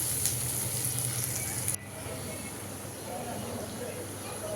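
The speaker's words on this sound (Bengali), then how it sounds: "তো এখানে পেঁয়াজ ভেজে নিচ্ছি।" Onions fry in a pan with a bright, close sizzle that cuts off abruptly partway through, leaving a softer hiss while a person talks over the cooking.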